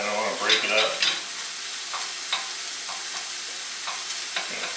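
Ground meat being broken apart and stirred in a hot frying pan for nachos, a steady close sizzle with a few louder scraping stirs near the start and soft clicks of the utensil throughout.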